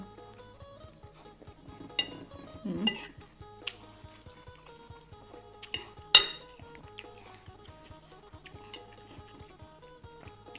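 Green apple pounded with dried chili and garlic in a mortar, used in place of mango, gives scattered knocks and clinks of the pestle, a few sharper hits standing out over quiet background.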